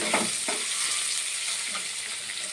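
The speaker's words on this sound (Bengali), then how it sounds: "দিয়ে ভালো করে নাড়াচাড়া করলাম" Food frying in a pan with a pinch of salt, stirred by hand: a close, continuous sizzle with a few soft scraping strokes and no speech.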